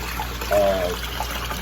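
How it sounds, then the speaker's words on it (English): Water from a homemade indoor pond filter pours through an open elbow into the pond, a soft continuous trickle and splash with a faint tonal hum beneath it. "So when it shoots down into the water, we got a mixture of air with the water"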